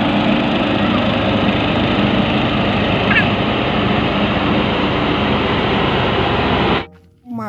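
A toy large road roller drones with a loud, continuous buzzing motor hum that holds steady and then cuts off abruptly near the end.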